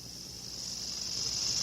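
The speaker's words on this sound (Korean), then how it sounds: "지금 울고 있는 것은 다른 유지매미야." A large brown cicada sings in one steady, high, continuous buzz that gradually swells louder, close and with no other sounds over it.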